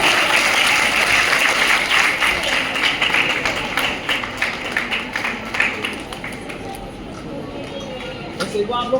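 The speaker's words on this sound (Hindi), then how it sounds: "जोरदार तालियों के साथ स्वागत करें।" A crowd claps to welcome guests to the stage at a magazine launch during a women's honour event in India. The applause is loud and continuous at first, then thins into scattered claps, with some talk underneath.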